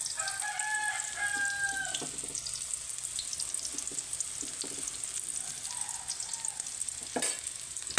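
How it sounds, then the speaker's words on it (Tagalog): Vegetables frying in an oiled pan for a corn vegetable dish, with a constant sizzle, scraping stirs, and a rooster crowing in the background near the start. "Haluin lang natin."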